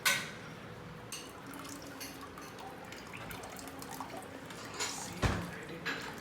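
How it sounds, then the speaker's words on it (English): Water poured into a pot of rasam while cooking, soft liquid splashing and dripping with a few louder plops and sloshes, close and moderately quiet, with no talking. "Add more water till the consistency is like this."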